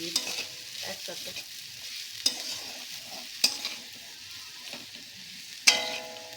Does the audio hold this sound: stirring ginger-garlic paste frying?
yes